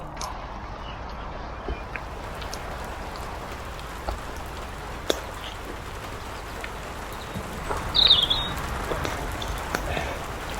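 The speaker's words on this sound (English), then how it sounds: "The rain is really coming down now." Steady heavy rain pours down on a wild camping spot in a dense, constant hiss, with a few sharper drops and a brief bird call partway through.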